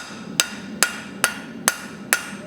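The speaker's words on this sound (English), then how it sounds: "I'm just going to push it down with the hammer" A blacksmith bends hot steel with steady hammer blows, five sharp ringing metallic strikes spaced evenly about half a second apart, close and clear over a quiet shop background.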